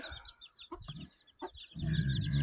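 Shamo fighting chickens in a yard give several short clucks and chirps, fairly close, with a low rumbling murmur of hens rising toward the end.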